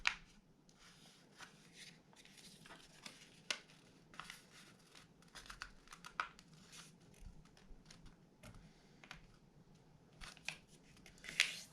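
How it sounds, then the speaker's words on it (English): Sheets of origami paper are folded and creased close by, giving quiet crinkles and sharp little snaps and rustles scattered irregularly through a near-silent room, with no talking. "I'm going to find middle like this by folding it"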